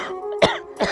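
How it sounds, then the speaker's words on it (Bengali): Two short, rough coughs ring out close by in a Purulia comedy stage play of the Manasa Mangal tale, the second fainter than the first, with a faint tone lingering underneath. "ও এত কাশি হচ্ছে"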